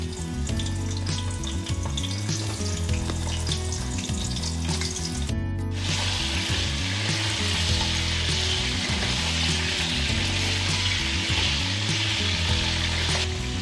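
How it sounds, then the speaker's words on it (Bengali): Whole potatoes frying in hot oil sizzle loudly and continuously up close, with a brief dip partway through followed by a brighter, more intense crackle as frying continues. "তেল গরম হয়ে গেছে, এবার গোটা আলু দিয়ে ভেজে নেব বেশ ব্রাউন করে"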